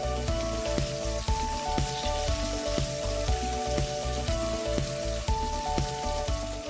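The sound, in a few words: thin pork loin skewers sizzling on hot grill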